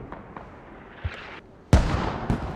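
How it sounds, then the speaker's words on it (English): Mortar explosions in a squad-based video game match, several muffled distant thuds followed by one loud near blast with a rumbling tail. "Friado crawling through the fields, trades with Japa, and also just get desecrated by his own mortars"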